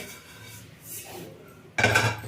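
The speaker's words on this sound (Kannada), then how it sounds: "ಕಡಲೆ ಕಡಲೆಬೇಳೆ ಹಾಕೊಳ್ತಾ ಇದ್ದೀನಿ" Chana dal (split chickpeas) tipped into a pan for puliyogare gojju: a short, close rattling scatter of grains near the end, after a quiet stretch with faint scraping.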